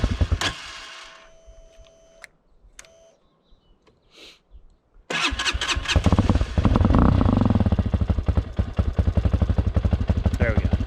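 A Hawk 250 DLX motorcycle is started on a cold day in the low 40s. A few beeps and clicks come first, then the engine fires after a brief crank and runs with a loud, rapid, throbbing idle and some revving.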